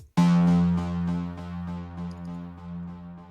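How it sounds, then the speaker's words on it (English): A plucky Serum synth bass preset in FL Studio for a liquid drum and bass intro, striking with a sharp attack and then ringing out in sustained tones with faint repeated plucks decaying above it. "It's a really nice plucky bass."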